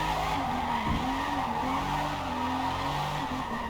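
A car drifts in the racing video game Forza Motorsport, tires squealing and skidding continuously over a steady engine roar, loud and unbroken throughout with no voices.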